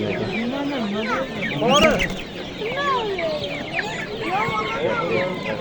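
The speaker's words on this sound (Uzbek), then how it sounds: "Chiroyli ekan tovuqlar." Chickens cluck and chatter steadily at a busy poultry market, with several birds calling close by and overlapping. A brief louder squawk cuts in midway, and a voice speaks once in the background.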